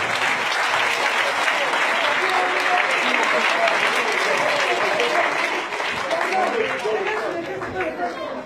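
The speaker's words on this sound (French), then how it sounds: "Est-ce qu'on peut acclamer le Seigneur pour le miracle?" A church congregation applauds at a prophetic prayer service, sustained loud clapping from a large crowd with cheering and chatter mixed in, easing slightly toward the end.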